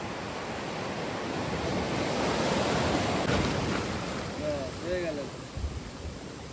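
Surf at Radhanagar Beach on Havelock Island in the Andamans, a broad, steady wash of breaking waves with wind rumble against the microphone, and a few faint voices surfacing near the end.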